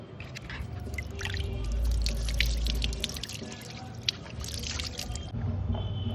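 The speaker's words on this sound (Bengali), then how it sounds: "চলো আগে মাথায় জলটা ঢেলে নিই।" Water poured over a person's head before shampooing with a protein shampoo containing milk and keratin, a close splashing and dripping stream that swells in the middle and trails off, with no talk.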